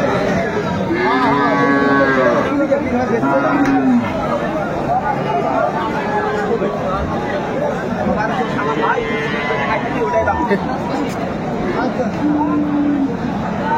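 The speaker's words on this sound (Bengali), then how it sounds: "আমরা দেখছিলাম সামনে একটা চমৎকার গাভী বাছুর, বেশ কোয়ালিটি ফুল।" Cattle at a busy rural livestock market, a cow with her calf among them, lowing in several drawn-out moos over a steady crowd babble, with people talking nearby.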